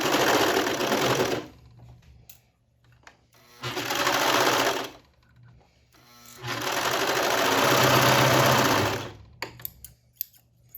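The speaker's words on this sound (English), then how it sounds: "so we'll go serge both of those together" A serger sewing machine stitches together the edges of a ribbed fabric cuff, running in three loud bursts of rapid whirring separated by short pauses with faint handling noises.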